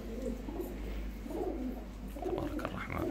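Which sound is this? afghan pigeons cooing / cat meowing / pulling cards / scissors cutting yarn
afghan pigeons cooing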